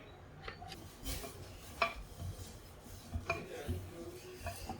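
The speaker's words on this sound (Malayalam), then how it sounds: "അല്പം എണ്ണ ഒന്ന് ഗ്രീസ് ചെയ്യാം" Oil is rubbed across a hot stone dosa griddle before neer dosa batter goes on: soft, close scraping and rubbing strokes with a few light metallic clinks, no voices.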